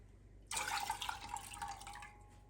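Half a cup of water is poured into a pan for melting jaggery while making wheat-flour sheera, a sudden close splashing pour that starts abruptly and trickles on for about two seconds.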